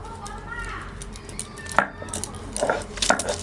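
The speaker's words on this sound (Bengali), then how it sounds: "ওইদিকে মাংস কাটাকাটি হচ্ছে" Meat for a duck curry being chopped in a home kitchen, with a few sharp cleaver knocks standing out near the end over a steady background hum.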